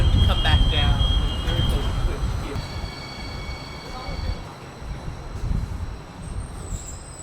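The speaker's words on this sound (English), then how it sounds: "Thank you for riding the Newark Light Rail." A Newark Light Rail train rumbles along at close range, with low rolling wheel noise, faint metallic squeals and a steady hum, while people talk over it.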